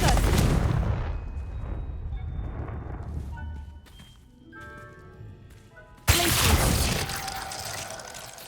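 A fiery Confringo spell blast in Hogwarts Legacy during a fight, with sharp explosive bursts and crackling impacts, a short quieter stretch with ringing tones, then a sudden loud blast near the end.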